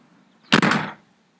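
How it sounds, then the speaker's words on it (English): A front door slams shut in a house, one loud, sharp bang with a short rattling tail that fades within half a second against a quiet room. "they both stormed off, slamming Mikey's front door"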